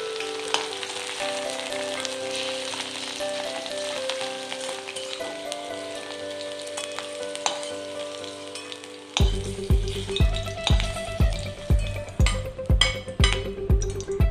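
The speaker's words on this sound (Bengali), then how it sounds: "আমি মোটামুটি মিনিট 3-4 ওটাকে একটু হাই ফ্লেমে ভেজে নেব।" Okra (bhindi) sizzles in hot oil over a high flame, a steady crackling fry with music playing over it, stirring bursts getting louder and more rhythmic in the second half.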